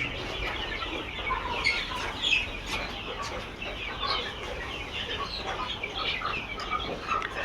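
Layer pullets on a poultry farm cluck and chirp steadily as a flock, many overlapping calls at close to middle distance over a constant barn hum, with no one talking.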